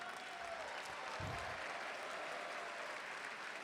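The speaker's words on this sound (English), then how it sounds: "Big round of applause for our finalists," A dense, steady wash of crowd applause at an esports tournament's grand finals for the finalists, continuous and fairly distant, with a brief low thump partway through.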